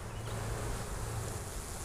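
Honey bees from a swarm drone in a thick, constant buzz close up, with no other sounds.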